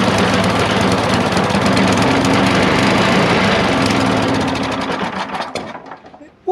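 An old Tecumseh snow blower engine fires up and runs, a loud continuous rattling drone at close range that steadies, then drops off and fades toward the end.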